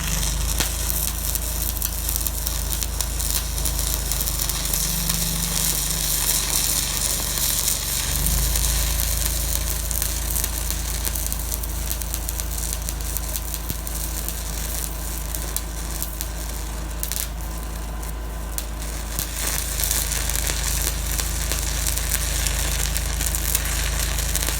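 Arc welding with a Miller welder fitted with an RHC-14 remote amperage control, a steady loud crackling, sizzling buzz running continuously, with a low hum that briefly shifts partway through and then settles.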